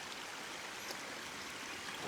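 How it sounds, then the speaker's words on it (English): A small stream flowing through woods, a steady close rushing and trickling of water that continues evenly throughout. "This is the third little stream."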